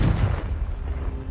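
A single loud blasting-spell explosion from Hogwarts Legacy, a short deep boom that rumbles briefly and fades.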